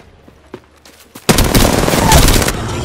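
Gunfire in Apex Legends, a few quiet clicks followed by a loud, sustained barrage of rapid automatic shots that fills the rest of the moment.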